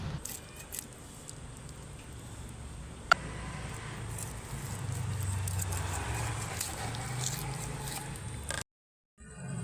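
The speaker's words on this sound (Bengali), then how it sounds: "বোন মাছটা কেটে নিচ্ছে" A Japanese fish being cut up for curry gives soft wet squishes and snipping sounds, close and continuous, with one sharp click partway through before the sound cuts out near the end.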